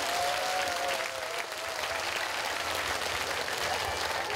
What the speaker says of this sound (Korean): 이런 분들에 대해서 같이 박수 한번 쳐주십시오